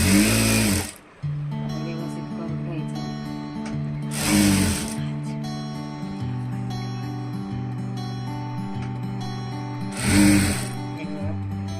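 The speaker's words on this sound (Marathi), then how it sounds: "तर कमरेला पण आपण दाब शिलाई देऊन घेऊया." A sewing machine runs steadily, stitching lace onto a back neck design, with three short bursts of louder broadband noise breaking in at intervals over the continuous hum.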